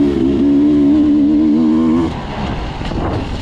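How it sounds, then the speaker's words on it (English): Enduro motorcycles ride behind a rider during a race, their engines a loud, steady buzzing drone that drops off after two seconds into rougher, fluctuating engine noise. "I can hear bikes behind me"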